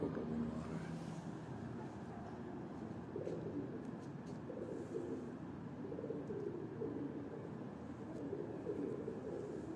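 Pigeons cooing on a Lahore rooftop, soft low cooing running steadily through a dense, even background of outdoor noise, with no clear individual calls standing out.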